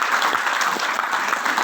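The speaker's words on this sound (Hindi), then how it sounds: "जोरदार तालियां अमर जी के लिए।" Enthusiastic audience applause for Amar at an indoor gathering: dense, steady clapping from a crowd, sustained and fairly loud throughout with no voices on top.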